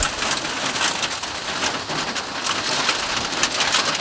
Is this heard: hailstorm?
yes